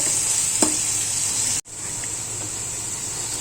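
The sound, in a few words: onions frying in oil until brown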